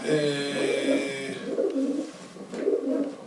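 Pigeons coo in a low, throaty rhythm, several soft rolling calls repeating close by, with a brief harmonic tone fading out at the start.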